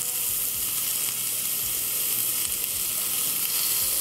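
Shrimp sizzling in a frying pan with zucchini give a steady, close hissing crackle, joined by faint low thumps of stirring throughout.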